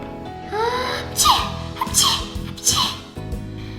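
A dog with a feather stuck in its nose sneezes three times in quick succession, each burst loud and close, over a steady musical backing.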